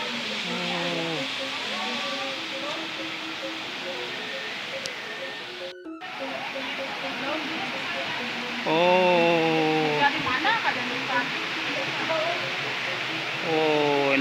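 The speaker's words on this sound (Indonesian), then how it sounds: "Inilah air terjunnya, teman-teman." Tukad Barong waterfall in Bali, a steady broadband rush of falling water heard close by, running continuously beneath people talking, with a brief dropout partway through.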